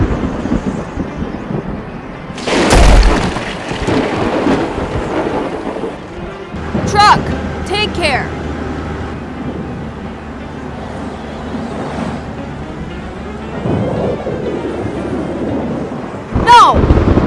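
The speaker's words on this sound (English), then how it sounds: "Thunder and lightning ahead." Cartoon thunder cracks and rumbles in a stormy scene from a children's animation about trucks and excavators, with bursts of rolling booms over rain-like noise and music, a sharp crash near the start and another at the end.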